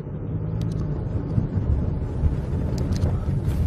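An off-road vehicle accelerates steadily toward a wall at an intersection in a crash reconstruction, giving a continuous close engine rumble with no voices.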